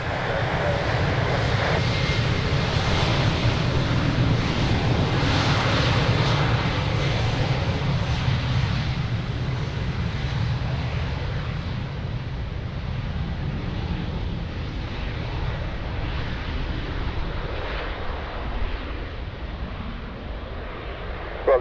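A fixed-wing airliner thunders down runway 02 at Lisbon Airport on takeoff, its jet engines producing a loud, continuous roar with deep rumble that swells early, then slowly fades as it climbs away, with some wind buffeting on the microphone.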